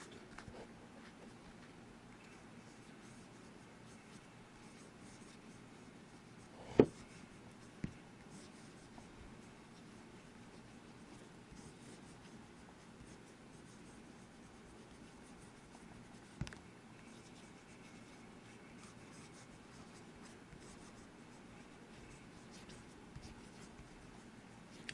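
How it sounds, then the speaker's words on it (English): A Waterman fountain pen writes on Rhodia lined paper, giving a faint, steady scratchy rustle with a few small taps along the way, close up in a quiet room. "And I will do a little la-la writing in this paper."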